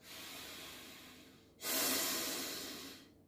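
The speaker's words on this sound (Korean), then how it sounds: "자, 숨소리를 한번 들려드리겠습니다." Nasal breathing through an anti-snoring device worn in the nostrils: a softer airy inhale-exhale hiss, then a stronger, louder rushing breath that slowly fades, close and alone.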